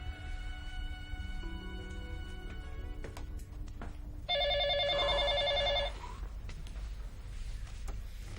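A telephone rings in a Hindi TV drama scene, its electronic bell tone sounding in a clear burst of several seconds, with a quieter tonal ringtone pattern before it and no talk over it.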